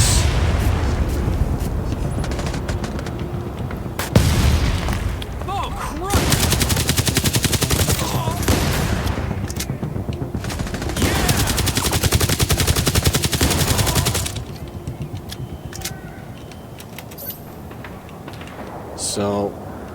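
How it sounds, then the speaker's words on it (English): Loud, sustained gunfire rattles in the video game Division Resurgence, broken by heavy booms from grenade explosions and turret fire, with dense bursts continuing before easing off near the end. "Let's get some explosions going with grenades"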